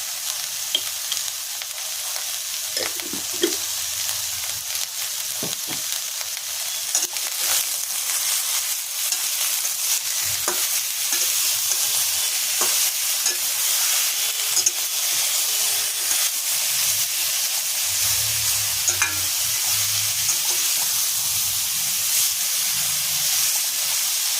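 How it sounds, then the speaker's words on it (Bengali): Salted ridge gourd and potatoes fry uncovered in a pan, a steady hissing sizzle with a steamy edge lasting the whole stretch, punctuated by occasional light clinks and stirring scrapes, close and with no speech. "চাপা দিইনি, এমনি ভাজছিলাম"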